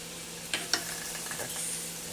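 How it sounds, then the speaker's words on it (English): Butter melts in a hot pan while cooking breakfast, giving a soft, quiet sizzle with a couple of brief clinks or taps near the start. "I'm going to now add some butter."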